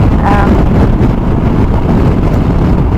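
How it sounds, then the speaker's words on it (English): Strong wind buffets the microphone in a steady, roaring rumble on an open road approaching Puerto San Julián, with no other clear sounds. "This wind is crazy"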